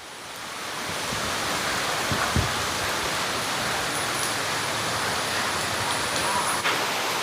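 Heavy monsoon rain pours steadily in Kerala as floodwater rises toward a carport, a dense, constant hiss filling the whole stretch with no break.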